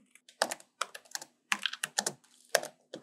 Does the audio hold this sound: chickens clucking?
no